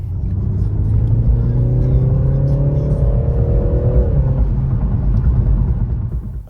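A BMW 330i G20 sedan with its B48 engine accelerating on the road, a loud low rumble with a rising engine tone that climbs and then drops as it shifts, heard from inside the car.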